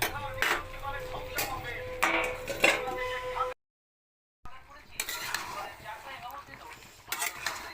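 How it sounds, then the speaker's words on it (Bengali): Mutton is slowly stir-fried in a pot, with a metal spoon repeatedly scraping and clinking against the pan in close, irregular bursts, broken by a brief silence. "এরকম করে আস্তে আস্তে কষিয়ে নেব।"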